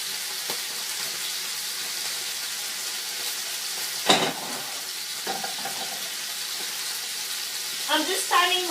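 Sausages sizzle in a frying pan on a home stove with a steady bright hiss, broken by a sharp clatter and a few soft knocks as they are moved about in the pan.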